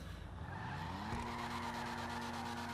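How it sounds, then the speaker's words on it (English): 2002 Nissan Fairlady Z33 (350Z) spinning out in GTA, its tires squealing in a rising, then held screech over the engine roar, close and continuous. "So there we go, I just spun out."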